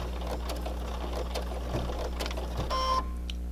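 A sewing machine runs a steady motor whir while backstitching on fabric for a mask with a filter pocket, close and continuous for about three seconds, then stops abruptly with a brief mechanical rattle.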